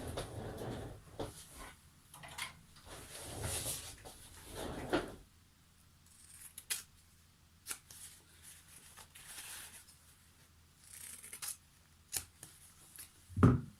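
Scissors trimming off the stitched corners of an upholstery fabric wine bottle gift bag, a few soft snips and fabric rustles up close amid handling noise, with no voices.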